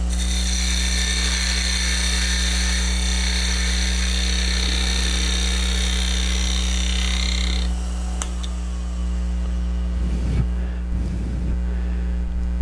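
A skew chisel slicing wood on a running lathe, a bright continuous hiss over steady motor hum that stops abruptly partway through, leaving the hum and a few low rumbles.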